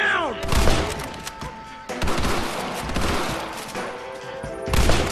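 Rapid gunfire crackles through a bank robbery shootout in the Western game Red Dead Redemption, dense overlapping shots and volleys that are loud and close, with brief voices mixed in.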